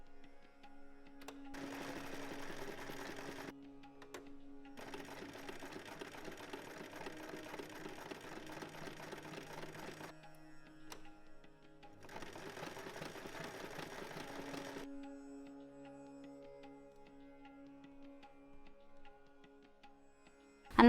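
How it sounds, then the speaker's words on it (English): Sewing machine stitching a buttonhole at the front of a bohemian skirt, running in three sustained close bursts of steady rapid whirring, separated by quiet pauses and a faint hum. "in the middle, in the front, I'm going to sew a buttonhole in which I'm going to insert the tie"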